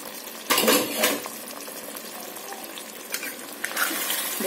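A lid comes off a pot of slow-cooked chicken chaap, giving a sharp metallic clank followed by softer clinks and a light simmering sizzle underneath, close by and moderately loud.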